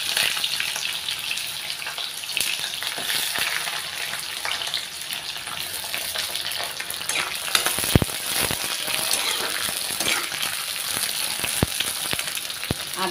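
Onion fries in hot oil, a loud steady sizzle and crackle close up, with a few sharp clicks of utensils against the pan partway through and no talking.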